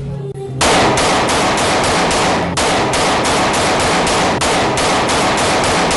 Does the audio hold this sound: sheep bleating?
no